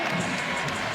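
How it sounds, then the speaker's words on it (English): A basketball arena crowd at a Florida vs Tennessee game roars in a dense, sustained wash of cheering, loud and close, with no break over the short moment. "this crowd getting into it early"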